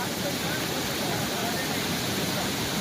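Fast-flowing floodwater after heavy rain in Saurashtra, Gujarat rushes in a dense, continuous hiss and roar, loud and close with no break.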